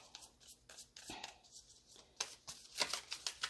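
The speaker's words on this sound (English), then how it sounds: "I'm going to give it a good shuffle, and if it takes too long, I will cut the deck." A deck of tarot cards is shuffled by hand in soft, quick riffles and slides, a series of faint close papery bursts that pick up toward the end.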